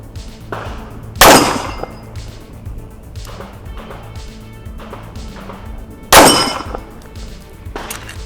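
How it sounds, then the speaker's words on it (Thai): Two sharp, loud pistol shots from a Kimber EVO SP fired at an outdoor range target roughly 20 metres away, spaced about five seconds apart, each ringing with a metallic clang over a steady background. "มาดูเรื่องของการยิงทดสอบระยะไกลนะครับ"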